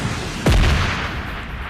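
A single heavy gunshot rings out in PUBG Lite, a sharp close boom with a long rumbling tail over steady game background noise, with no talk.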